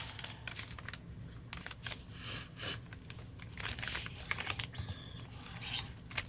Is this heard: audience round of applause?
no